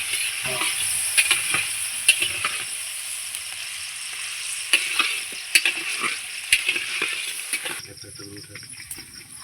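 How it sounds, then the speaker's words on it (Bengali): Potatoes sizzle steadily in hot oil in a brass wok, with occasional clinks and scrapes of stirring; the frying hiss softens near the end. "তেলটার মধ্যেই আমি আলুগুলো ছেড়ে দেব আলুটাও আমি ভেজে নেব"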